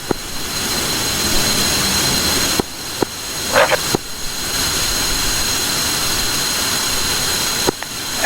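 F-5 jet engines in DCS World spool and whine loudly and steadily before takeoff, with a few brief clicks and dropouts along the way.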